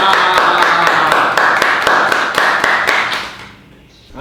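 Audience applause greeting a guest onto a talk-show set: a few steady, fairly loud handclaps over a bright crowd wash that fades to near quiet at the end.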